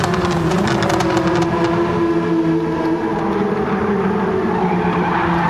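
Race cars in Gran Turismo 7, Mini VGT machines on a circuit, roar loudly and continuously with layered engine tones and some tire skid, no voices present.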